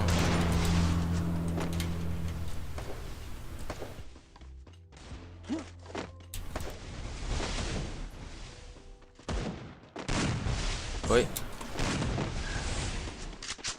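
Gunfire in the Free Fire video game, with dense volleys of shots and booming impacts, loud and continuous early on, then separate cracks and bursts after a brief lull, heard close with game effects in the background.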